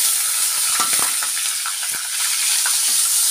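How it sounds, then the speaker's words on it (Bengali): Soaked Gobindobhog rice fries in hot oil with whole spices and dried red chillies for muri ghonto, giving a steady close sizzle broken by a few scraping stirs. "এই তেলটার মধ্যে একটু ভালো করে ভাজবো"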